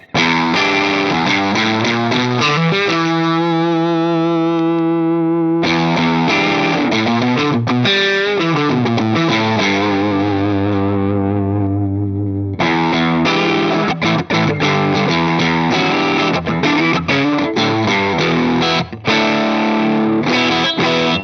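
Overdriven electric guitar through a Fractal Audio drive model plays sustained chords and riffs with gritty distortion, loud and continuous with a few short pauses.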